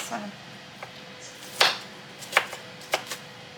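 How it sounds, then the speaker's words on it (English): A knife chops a medium onion on a cutting board in a few sharp, irregular strokes, close up, with a quiet room hum between them. "I'm just chopping up one medium onion"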